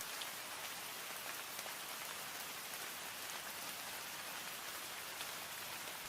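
Steady rain falling, an even hiss of many small drops on a surface, soft and continuous throughout with no voices.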